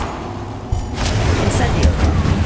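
An Incendio fire spell cast in Hogwarts Legacy: after a quieter rumble, a sudden loud whoosh bursts in and settles into a sustained crackling roar of flame.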